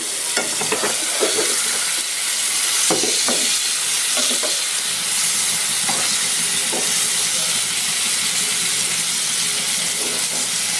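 Sylheti dried fish with garlic paste being sautéed in a pan, a loud continuous sizzle with intermittent stirring scrapes and knocks throughout.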